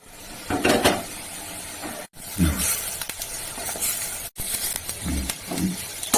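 Small moong dal and poppy seed bora fritters dropped into hot oil, a steady sizzle of frying with clinking and stirring bursts as spoonfuls go in, close up.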